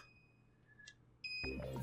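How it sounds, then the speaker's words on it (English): An electronic alarm in the Root Double video game starts beeping after a quiet stretch of faint tones, then sounds loud and dense over a low hum. "No sooner had they exited than did the Procyon alarm start beeping."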